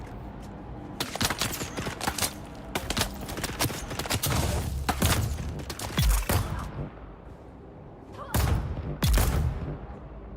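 Turret gunfire in Dune: Awakening, loud sharp bursts of rapid shots arriving in irregular volleys across the scene, each burst cracking then fading, with a little talk between them.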